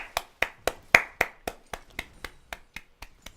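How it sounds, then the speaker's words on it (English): Single person's slow, evenly spaced hand claps, about a dozen sharp close strikes in a row that gradually soften, with no talk. "round of applause for them."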